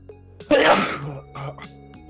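A single sharp sneeze bursts out close by, followed by a faint throat sound and a short voiced murmur.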